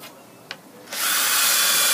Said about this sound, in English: Put it into a normal drill, high speed, and it will be wobbling about in the tubes to clean them thoroughly.